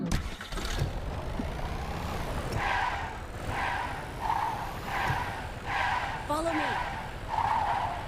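Tires skid repeatedly as a vehicle drives in a ranked-match video game, with squealing bursts recurring every second or so over a steady engine hum while a voice speaks briefly.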